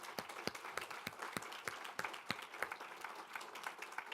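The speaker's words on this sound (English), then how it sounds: "I would like to ask you for a round of applause for our panelists" A forum audience gives a round of applause for panelists, sparse and fairly quiet clapping with individual claps standing out in an irregular patter from a moderate distance.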